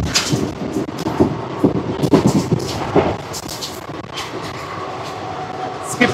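The Circar Express passenger train, number 17644 from Kakinada Port to Chengalpattu, rolls along between Kaikaluru and Gudivada, a steady close rumble broken by repeated clacks and knocks from the wheels and carriages, with no voices.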